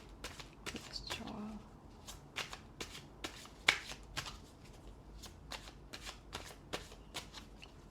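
Tarot cards being shuffled before a reading, a string of crisp riffling snaps and soft slides repeating steadily at close range, fairly quiet with a faint bird call in the background.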